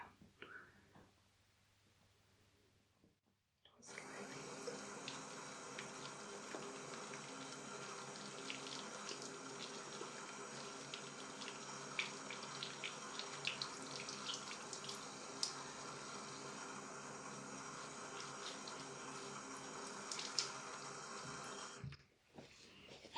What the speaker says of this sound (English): I'm going to have to turn the tap on